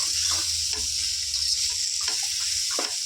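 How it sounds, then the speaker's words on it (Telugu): Okra, about 300 g, sizzles steadily in a hot pan with oil, a continuous close frying hiss broken by a few soft stirring knocks. "నేను ఒక త్రీ హండ్రెడ్ గ్రామ్స్ బెండకాయలు వేసుకుంటాను ఫ్రెండ్స్ వీటిని చక్కగా ఫ్రై చేసుకుందాం"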